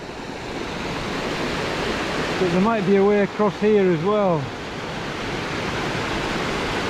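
River water flows steadily in the background along Cape Wrath Trail in the Scottish Highlands, a broad, continuous rush heard throughout while someone speaks briefly over it in the middle.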